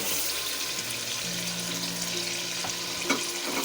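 Minced meat fried with carrots sizzles steadily in a pan, a dense constant hiss close by, with faint stirring and one small knock near the end, no talking.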